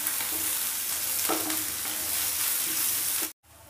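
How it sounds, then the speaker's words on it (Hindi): Green chilies, coriander and crushed onion frying lightly in a pan, a dense continuous sizzle with a few faint stirring clicks, close up, cutting off abruptly near the end. "हरी मिर्ची और यहाँ पर डाल देंगे हम धनिया, ब्रश करा हुआ प्याज और इनको हम भून लेंगे हल्का सा।"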